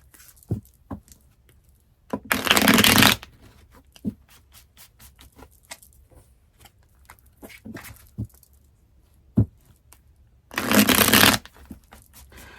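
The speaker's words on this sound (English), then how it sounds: "I want to shuffle a wee bit more and then cut this bad boy" Tarot cards are riffle-shuffled in two quick bursts, separated by quiet handling taps and soft card clicks.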